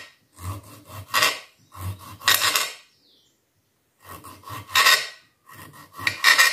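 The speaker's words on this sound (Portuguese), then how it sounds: "Olha que emoção que é cortar o primeiro tomatinho do tomateiro." Knife slicing through home-grown cherry tomatoes picked from the garden plant, washed and cut with the skin on: close, crisp rasping strokes in short clustered bursts separated by brief silences.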